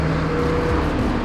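An Audi R8 race car engine at the Nürburgring holds a loud, steady drone with a slight pitch shift, continuous and close for just over a second.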